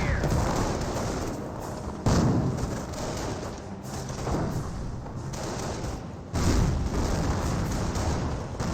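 Mortar rounds and explosions in a Company of Heroes 1 match between Panzer Elite and US forces: several heavy booms land at irregular intervals of a couple of seconds, each with a rolling tail, amid continuous battle din.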